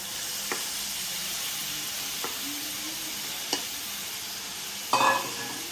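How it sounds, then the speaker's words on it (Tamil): Prawns fry in gravy in a pan, giving a steady hissing sizzle with a few distinct scrapes of a spoon and a louder stirring burst near the end, heard close with no talk. "இறாலை சேர்ப்போம்"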